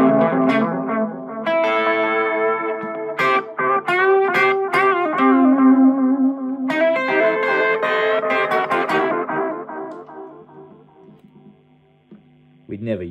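An electric guitar plays rockabilly-style phrases through a Strymon El Capistan tape echo with overdrive, the notes gritty and trailed by repeats. Bursts of strummed chords and single lines fill about twelve seconds, then die away before a final stab.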